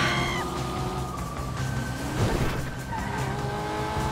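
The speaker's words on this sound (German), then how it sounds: "Oh, das schöne Auto." A car in GTA V drives with a steady engine drone while its tires squeal and skid, the screech rising and sliding across the engine noise for several seconds, loud and close with no talking.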